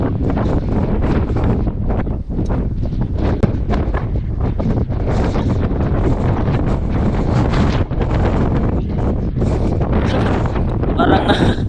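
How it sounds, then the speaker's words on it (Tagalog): Strong wind roars steadily along a roadside, buffeting the microphone with loud continuous rumble and gusts throughout, with faint talk buried underneath. "Lakas sa hangin."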